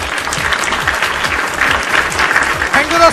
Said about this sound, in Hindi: मिस्टर सुशांत कुमार मंडल जी के लिए जोरदार तालियां।